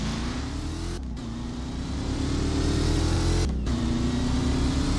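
A Shelby GT500 engine in a video game revs and roars steadily, with two brief dips where the throttle drops before climbing again, loud and close.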